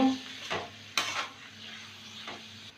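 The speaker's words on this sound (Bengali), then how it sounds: "একটু ক্যাপসিকাম দেবো আন্দাজ মতো নুন দেব দিয়ে দু মিনিট ভেজে নেব" Capsicum stir-fries with salt in a pan for vegetarian chow mein, a faint steady sizzle punctuated by three or four sharp stirring scrapes and clinks, close by and with no talk.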